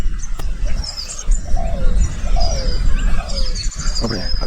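Small birds, sparrows, chirp in a flowering tree in a village setting, a scatter of bright tweets and short calls over a steady outdoor background of moderate loudness.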